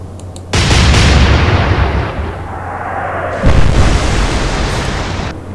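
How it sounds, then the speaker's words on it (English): Naval gunfire from the cruiser Exeter in the Atlantic Fleet game: a loud boom followed by a long rolling rumble, then a second heavy blast a few seconds later. "So Exeter, open fire."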